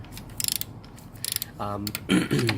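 An extended 3/8-inch ratchet with a swivel head, used during a header install on a BMW E92 328i N52, gives two quick bursts of sharp, close clicking separated by a pause, followed by brief indistinct sounds.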